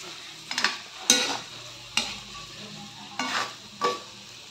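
Spicy chicken adobo being stirred in a pan, with about five distinct scraping strokes of a spoon against the metal over a low simmering sizzle, close and fairly quiet, no talking.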